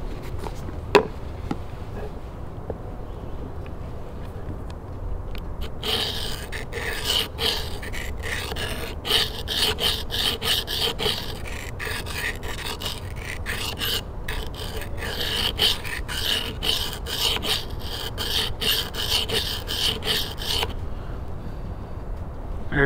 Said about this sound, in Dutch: We hebben hem nu onder een hoek van 20 graden aan één kant geslepen.